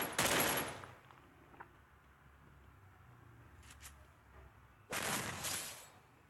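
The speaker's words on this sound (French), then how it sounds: "Le fusil à pompe, même si dans ce jeu, il est pas très bien." Pump shotgun fire in the mobile battle royale game Free Fire: two loud blasts, one at the very start and another near the end, with a quiet stretch and a faint distant shot between them.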